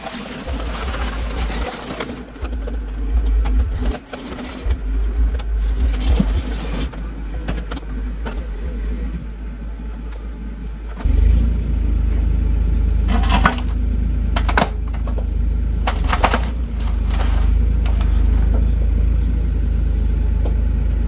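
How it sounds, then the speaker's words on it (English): A mini excavator's diesel engine rumbles steadily nearby, deepening and growing louder partway through, while sharp metallic clanks and scrapes ring out as the bucket teeth pry a stuck rock from behind a header board during home rock landscaping. "let's see if I can just gently peel that out of there with the excavator"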